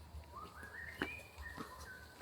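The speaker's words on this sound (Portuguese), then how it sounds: "Olha o canto desses pássaros." Birds sing in a forest in Thailand, giving thin rising and falling whistled notes separated by short pauses. The calls are faint and somewhat distant, with a few sharp clicks between them and no talking.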